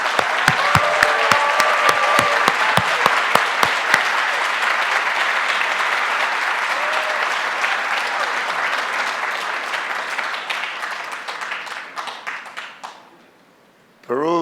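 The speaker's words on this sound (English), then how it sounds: "So please help me giving Tony a big hand of applause." Sustained audience applause at the APEC Philippines 2015 summit gathering, loud and steady, with a few sharp distinct claps at the start, fading and thinning toward the end before a brief pause.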